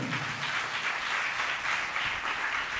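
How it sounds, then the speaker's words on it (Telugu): An audience at an Independence Day prayer gathering claps in a dense, steady wash of applause that holds at an even level from start to finish, with no voices over it. "చప్పట్లు కొట్టండి గట్టిగా"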